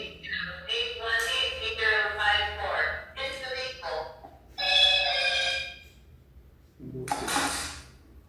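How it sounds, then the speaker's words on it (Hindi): An incoming call on a phone rings as a series of repeated tonal bursts separated by short gaps, fairly loud and close. "फोन आ रहा था सर, काट दे।"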